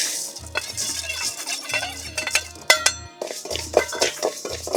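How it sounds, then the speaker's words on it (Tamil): Parboiled rice roasting in a pan while stirred, with repeated scraping and metallic clinks of a spoon against the pan over a faint sizzle. "அரிசி வறுத்துக்கலாம்"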